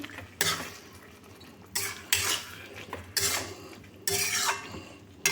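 Tomato chutney with cashews, raisins, dates and dried mango pulp being pressed and stirred in a pan: a few separate bursts of scraping metal spatula strokes against the pan, close, with quieter pauses between them.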